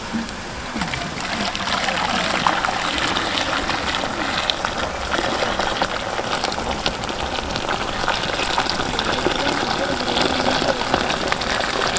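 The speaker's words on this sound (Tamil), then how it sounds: "வெள்ள பாவு காய்ச்சி 2 சொம்பு ஊற்றுறேன்." Boiled jaggery syrup being poured into a pot while making sesame candy, a continuous close, splashing liquid stream that stays even throughout.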